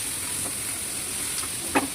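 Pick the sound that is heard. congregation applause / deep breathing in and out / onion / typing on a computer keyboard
onion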